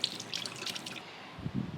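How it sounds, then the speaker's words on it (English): Water splashing and trickling as soaked wheat berries are drained through a strainer, with a few drips and a brief gurgle near the end. "Now I'm going to drain the water."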